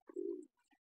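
A Sirazi pigeon squab gives a single short, soft coo, followed by faint chirpy peeps, close and quiet in an otherwise still loft.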